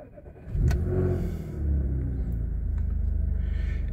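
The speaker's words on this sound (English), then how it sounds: "First things first, we're going to start the car up." An Audi S4 engine turns over and catches, then settles into a steady, loud rumbling idle with a slight rhythmic pulse, close by and with no talking.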